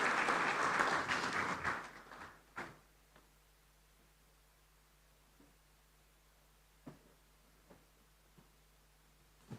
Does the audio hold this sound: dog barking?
no